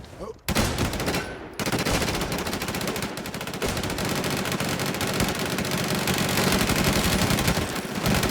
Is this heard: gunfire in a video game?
yes